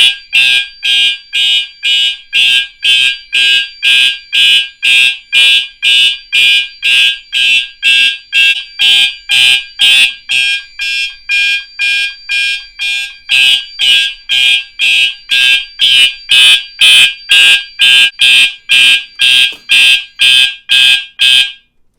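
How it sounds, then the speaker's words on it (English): A fire alarm system, triggered from a pull station, sounds a loud, continuous train of rapid, evenly spaced electronic pulses with no talking. "we'll activate this system with this pull station."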